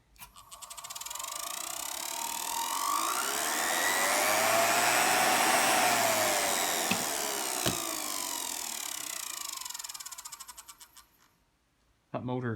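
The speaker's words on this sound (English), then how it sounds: "That motor is just fine." A small electric motor whines steadily for about ten seconds after power is brought up, holding a loud, even drone with a faint rising tone, then winds down to near silence before a brief burst of noise at the end.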